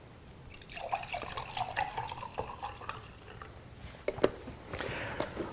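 High pH Kangen water poured during a water product demonstration, a close trickling stream with scattered drips and splashes, soft and uneven, ending in a brief steadier flow.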